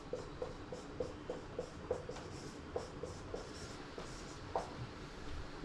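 A pen or marker writing out a divisibility rule in a Grade 3 maths lesson, with soft, steady scratching strokes and small taps close by and no voices.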